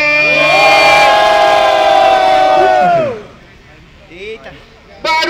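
A packed crowd at a rap battle final in Itaquera cheers and shouts at full volume for about three seconds, then drops off sharply, leaving scattered brief voices and murmurs.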